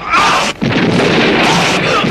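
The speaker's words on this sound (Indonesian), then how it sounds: "tubuh Tumenggung Adiguna itu meledak hancur berkeping-keping" An explosion effect in a Sundanese radio drama, Saur Sepuh, marks a body bursting apart: a loud crashing boom with a brief dip, then a rumbling roar of debris and noisy tumult.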